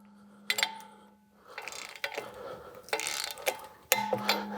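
A torque wrench tightening 10 millimeter bolts on an engine bracket during installation of a Kwik Performance K10472 wide mount, several sharp ratcheting clicks and clacks in short bursts, close and fairly quiet.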